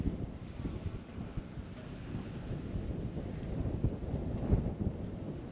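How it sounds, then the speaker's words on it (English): Gusty outdoor wind roars steadily into the microphone on an overgrown road being cleared for truck access, a low rumbling buffet that swells and eases without pause. "Gosh, this wind's blowing."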